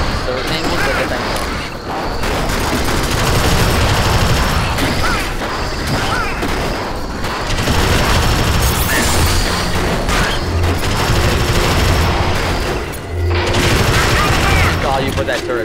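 A sentry turret in the Alien Swarm video game fires in sustained, loud bursts of rapid gunfire with crashing impacts, running almost continuously with brief gaps while voices talk over it.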